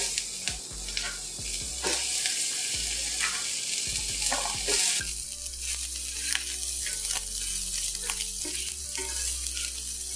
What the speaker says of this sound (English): add some oil just to line the base of the skillet. And toss in my onions.